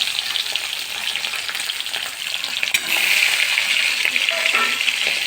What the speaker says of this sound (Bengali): সেগুলোকে আমি ভালো করে ভেজে নেব।